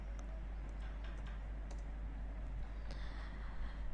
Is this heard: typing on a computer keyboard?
yes